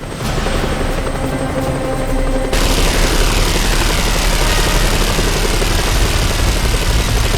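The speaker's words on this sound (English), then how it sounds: "deal with the helicopter" A helicopter in the video game Just Cause 2 roars loud and continuous, its rotor thrum steady throughout, with a brief burst of gunfire-like crackle in the game mix and no talking.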